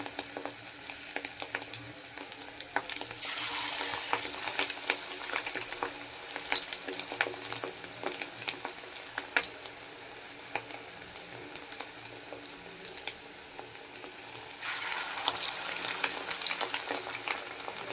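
Fish roe fritters fry in hot oil, dropped in one by one. A steady, close sizzle with crackling spatter runs throughout and swells in brief louder surges.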